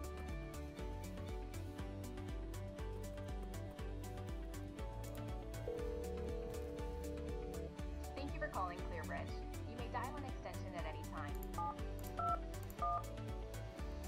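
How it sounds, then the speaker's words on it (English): Dial-pad tones from a softphone client sound as a quick series of short, even beeps, one per keypress, close and clean against a quiet background, with a steadier tone near the middle. "if we wish to make a call, all we have to do is dial it in right here just like you would a regular phone"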